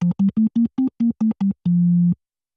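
A Nord Stage 4 Hammond B3 organ patch set to a high key click level plays eight short staccato notes, each with a clicky attack, then one longer held tone, close and alone.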